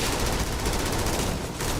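Dense, sustained gunfire from a Starfield firefight, rapid overlapping shots forming a continuous loud barrage with no break across the whole stretch.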